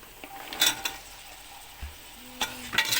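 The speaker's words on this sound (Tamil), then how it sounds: "சேர்த்துட்டு நல்லா ஒரு கிளறு கிளறி" Vegetables for biryani — tomatoes, potatoes, beans and carrots — stirred in a cooking pot with a utensil, giving a few short scraping, sizzling bursts separated by quiet gaps.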